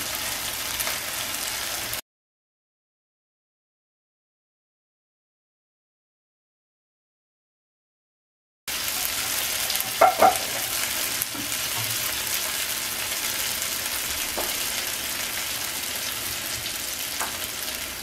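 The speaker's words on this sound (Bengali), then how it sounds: "এবার কষানো মশলাতে ভেজে রাখা মাছগুলো দিয়ে দিচ্ছি" Fried fish pieces dropped into sizzling cooked masala in a pan, a steady frying hiss that cuts out for several seconds of silence, then returns with a brief clatter as the pieces go in.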